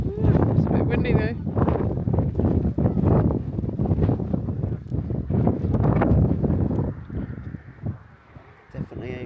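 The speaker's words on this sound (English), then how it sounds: "it's a bit windy though" Gusty wind buffets the microphone on Clee Hill in the UK, a rough roar under people talking, easing slightly toward the end.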